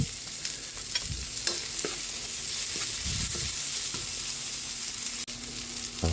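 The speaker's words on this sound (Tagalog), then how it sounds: "Ilagay na natin yung buyas para sa ating pork menudo." Sliced onion sautés in a hot pan for pork menudo, a steady close sizzle punctuated by scraping stirs of a utensil against the pan, with no talking.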